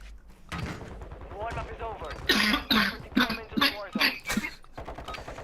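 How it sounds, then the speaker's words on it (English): A man coughs and clears his throat over proximity voice chat in a video game, giving a series of harsh, rough bursts mixed with talk and game noise. "I'm gonna see if I can find that guy that was coughing in the lobby"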